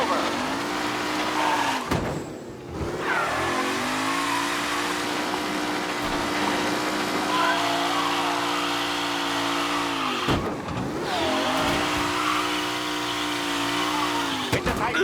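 Race cars in a tight pack during a race in Mafia Definitive Edition, with engines droning loudly and steadily, pitch rising and dropping through gear shifts and tire squeals, and a commentator voice over the top.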